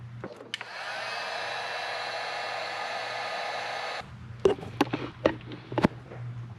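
A heat gun blows a steady, loud rushing hiss for about three seconds while heating soldered wire connections during a valve cover gasket repair on a 2008 Lincoln MKS or Ford Edge, then cuts off, leaving a low hum and a few sharp clicks and knocks.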